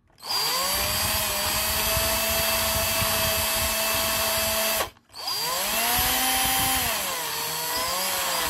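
A power drill whines loudly and steadily, stops briefly, then starts again, its pitch dipping and wavering as it bites into a toy ambulance to widen a hole for an LED.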